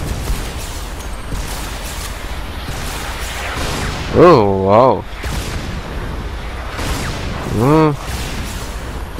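Rockets and gunfire roar through a chaotic SiN Episodes firefight as dense, continuous blasts and rumbling booms. A voice cuts in over the action twice.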